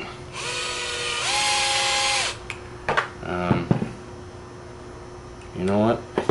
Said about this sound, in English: I'm going to drill this in just a little bit.